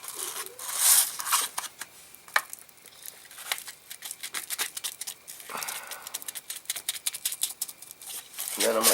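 Scissors cut through folded sandpaper in a rapid series of dry, rasping snips and scratches, close up, with someone talking quietly at times over the cutting.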